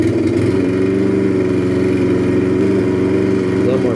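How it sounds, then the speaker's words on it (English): Lawnmower engine heard through Sony WF-1000XM3 noise-cancelling earbuds: a steady, droning mid-pitched buzz that holds constant, fairly loud and unbroken from start to end. "Lawnmower sounds like a faint buzzing."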